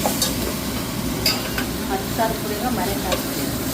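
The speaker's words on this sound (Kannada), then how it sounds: "ನೋಡಿ ಈಗ ಟೊಮೊಟೊ ಆ್ಯಡ್ ಮಾಡಿದ್ದೀನಿ ಈ ಸ್ಟೇಜಲ್ಲಿ." Tomatoes fry in a pan for biryani, giving a steady broadband sizzle with a few scraping stirs of a utensil, close and fairly loud throughout.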